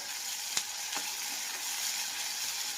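Steady hissing sizzle of spices frying in hot oil, with a couple of faint clicks from a spoon or pan.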